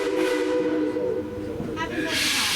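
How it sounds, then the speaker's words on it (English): A steam train at a railroad show hisses loudly up close, with a whistle-like tone and venting steam swelling near the end as it pulls away. Voices sound faintly underneath. "Casey Jones, let's get this train on back to town"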